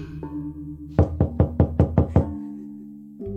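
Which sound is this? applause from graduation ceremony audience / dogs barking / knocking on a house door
knocking on a house door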